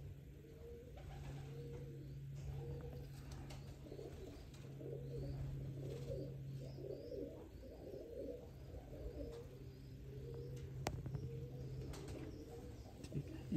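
A female pigeon coos in a low, steady, soft rumbling drone, with repeated throaty calls layered over it, a faint background with no talking.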